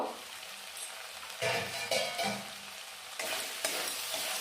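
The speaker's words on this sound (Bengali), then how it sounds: "আমি মশলাটা দিয়ে ভাজা ভাজা করে নিয়েছি" Spices with onion, mustard and ginger sizzle and crackle in a hot pan, with louder bursts as they are stirred around; no voices.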